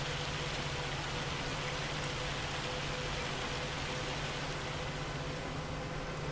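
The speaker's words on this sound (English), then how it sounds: "I didn't realize it would get this loud with hail." Dense, loud hail and rain pour down steadily in Farming Simulator 25, a constant roaring hiss with a low hum underneath and no voices.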